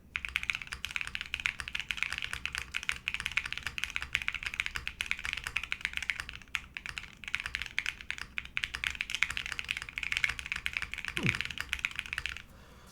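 Steady, close typing on a mechanical keyboard with Epsilon switches, thick PBT keycaps and a PC plate, a quick run of crisp, even clacks with no talking over it.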